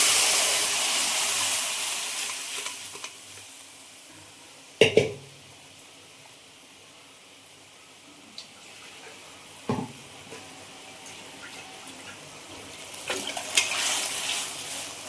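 Boiled urad dal tipped into a hot pan gives a loud steamy hiss that slowly dies down, with a couple of sharp clatters along the way and the sizzle swelling again near the end; no voices.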